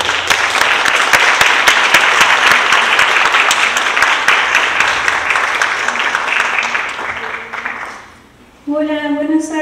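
Loud, sustained applause from a conference audience honoring a speaker, many hands clapping evenly for several seconds before fading out, followed by a voice beginning to speak.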